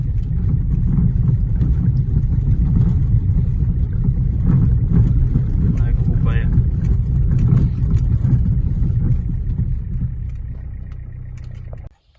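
A Hyundai Accent coasts steadily with a low rumbling road and drivetrain noise, faint knocks from worn steering tie rods within, before the sound cuts off abruptly at the end.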